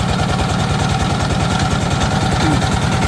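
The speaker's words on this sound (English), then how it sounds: "This engine start." Diesel engine just started and running: a loud, pulsing low-frequency chug with a fast regular knocking rhythm and mechanical clatter, heard close up and steady throughout.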